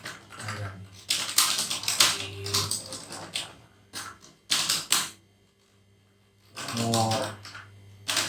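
Keyboard typing in short bursts of rapid clicks, fairly close, broken by pauses and a voice speaking between and over the keystrokes.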